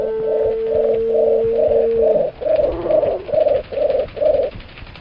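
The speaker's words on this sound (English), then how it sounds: "What noisy birds you are." Pigeons coo in the video game Sherlock Holmes: Crimes and Punishments, a steady rhythmic series of soft, hollow calls, about ten in a row, close and clear over a faint background.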